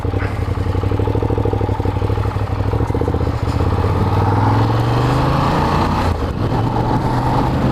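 A Ducati Diavel motorcycle engine rumbles loud and close as the bike pulls away, its pitch climbing steadily through acceleration.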